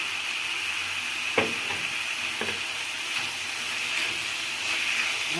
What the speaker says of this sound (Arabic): وبنحرك على نار عالية برضه عشان لحمة الصدر ما تنزلش ميتها